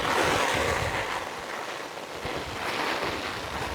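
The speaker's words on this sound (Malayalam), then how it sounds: "നല്ല കാറ്റുണ്ട് കണ്ട." Strong wind gusts across an open kitchen garden near apartment buildings, a loud continuous roar buffeting the microphone, swelling and easing slightly, with no voices.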